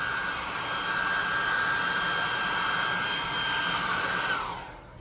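A steady, loud whooshing blast of hot air from a heat gun with a high whine, running continuously and then cutting off near the end.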